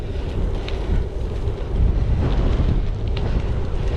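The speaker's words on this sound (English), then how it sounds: "it's into the wind." Strong, gusty wind buffeting the microphone while cycling into a headwind, a loud continuous low rumble with irregular surges and no talk.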